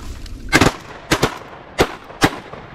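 Shotgun firing at ducks flying over a Mississippi River mud flat, four loud, close blasts spaced unevenly about half a second to a second apart, with nobody talking.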